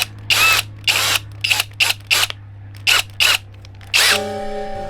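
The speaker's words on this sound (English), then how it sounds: "do some drilling." A power drill bores into a back boiler for a narrowboat stove in a series of short bursts, about eight whirring runs separated by pauses, close and loud, with a longer final burst that winds down.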